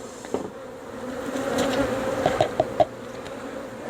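Honey bees in a horizontal hive, nurse bees during an inspection, make a close, steady buzzing drone with a few brief sharper buzzes near the end, and no voices are heard.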